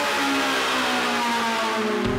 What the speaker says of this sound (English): the Ferrari 458 Italia, the only normally aspirated car here whose 570-horsepower V8 shrieks with such ferocity